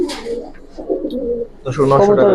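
A young female Giribaz pigeon coos in soft, repeated throaty calls up close, with people talking over and around them.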